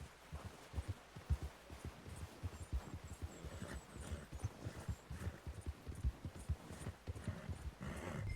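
Horse hooves clip-clop in Red Dead Redemption 2 with a steady, rhythmic trotting beat. The hoofbeats sound faint and fairly close, with no talking.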